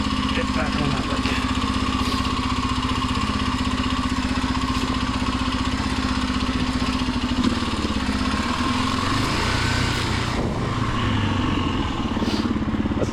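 A motorcycle engine labours continuously while riding up a hill, a steady close mid-pitched drone with clattering texture that stays loud the whole time, with no voices over it.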